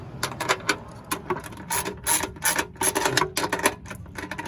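Rapid ratchet clicks tighten the nut on a fog light being installed on a 2004 Chevrolet Silverado, several quick bursts of close, crisp clicking with short pauses between.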